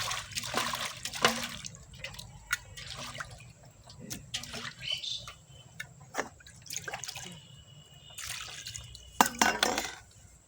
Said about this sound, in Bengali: মাছ ধোয়া হয়ে গেছে